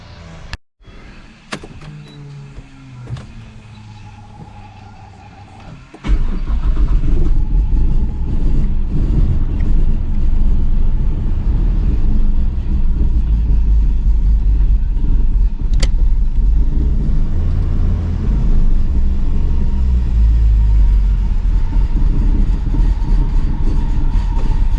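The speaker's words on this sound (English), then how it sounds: "we're going to start it up" A Nissan Skyline R34 GT-R, a GT-Four hybrid build, cranks over and starts, then settles into a loud, steady low idle that drones on for nearly twenty seconds.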